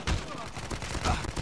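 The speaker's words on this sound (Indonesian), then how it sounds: "Ya ada tembak gini." Gunfire in a video game rings out in rough, overlapping bursts: two heavier blasts sit among a steady crackle of shots and loud background noise.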